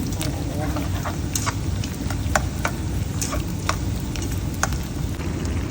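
Garlic sizzling in hot oil alongside pork, a steady loud frying hiss with scattered pops and crackles throughout.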